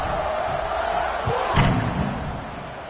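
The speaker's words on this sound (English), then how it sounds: "this crowd is buzzing after that last score" A college football video game plays a stadium crowd buzz as a steady, roaring wash of many voices after a score. A few dull thumps come near the middle, and no one speaks over it.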